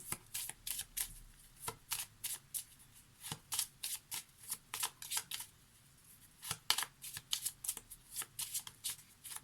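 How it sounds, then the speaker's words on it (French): Lenormand cards being shuffled by hand, with a steady run of crisp riffling bursts in quick rhythmic succession across the whole stretch, close and fairly soft, with only a brief pause near the middle. "Allez, on va prendre quelques cartes d'un Lenormand."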